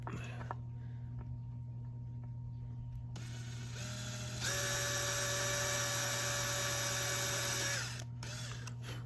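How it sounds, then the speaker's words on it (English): A hand drill whirs steadily boring into wood, then rises to a louder, higher grinding hum for a few seconds before dropping back, over a constant low electrical hum. "So we'll attempt to drill this by hand, not breaking the bit."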